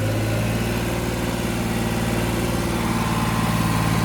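Tractor engine held at 2000 RPM in a medium gear during a cultivator power test, a loud, steady, close diesel drone with constant low rumble and no talk.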